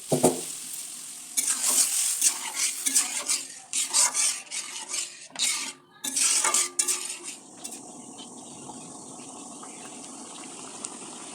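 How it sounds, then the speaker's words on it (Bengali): Boiled mung dal is poured into a pan of cooked winter vegetables, making a wet splashing and stirring clatter with a sizzle underneath. The clatter of the spoon against the pan comes in bursts and then fades to a quiet simmer. "এখন সেদ্ধ করে রাখা ডালটা দিয়ে দিচ্ছি"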